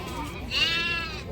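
A single drawn-out lamb bleat at a sheep and goat livestock market, fairly close and clear over a low crowd murmur.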